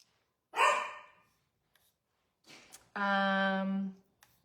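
Dog barking indoors: a single sharp bark, then after a pause a short yelp followed by a longer drawn-out, whiny bark, fairly close with silence between.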